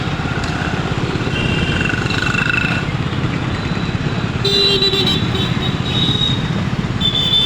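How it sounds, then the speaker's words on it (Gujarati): Busy street traffic at Haveli Chowk in Botad, with a steady rumble of cars and motorcycles close by and several short horn toots standing out over the continuous din. "બોટાદનું ટ્રાફિક હવેલી ચોક"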